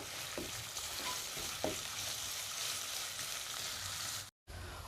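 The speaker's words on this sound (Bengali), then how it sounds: "অল্প কিছুক্ষণ ভেজে নেব" Bean seeds and fish frying briefly in a pan, with a steady, loud, continuous sizzle close by and a couple of soft stirring knocks, cut off by a brief silence near the end.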